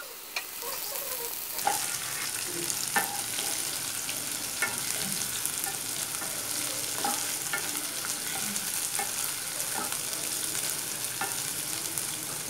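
Curry leaves fry in an oil-filled pan for aloo kurma, a dense continuous sizzle up close with scattered sharp crackles and spatter pops throughout, no voices.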